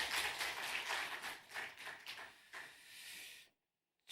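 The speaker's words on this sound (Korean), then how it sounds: "하나님께 영광의 박수 올립니다." Applause from a church congregation during a Sunday worship service, a dense wash of hand clapping that fills the room and then cuts off abruptly.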